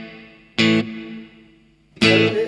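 Electric guitar through the spring reverb of a Blackstar HT-Effects pedal: two loud strummed chords about a second and a half apart, each ringing into a short, slightly twangy decaying tail.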